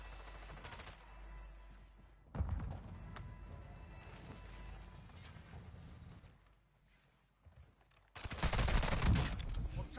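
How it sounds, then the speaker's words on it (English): Gunfire in Call of Duty Modern Warfare II on PS5: a loud burst of rapid shots around a quarter of the way in, softer scattered firing after, then a heavy sustained volley near the end. "I'm taking effective fire!"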